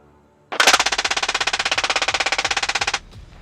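Six-barreled M134 Minigun opening fire in one sustained burst of about two and a half seconds, a loud, rapid, evenly pulsing roar of shots that starts abruptly and cuts off sharply.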